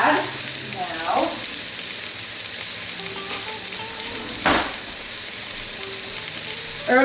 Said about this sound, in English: So all we're doing right now is just sauteing the 3 ingredients.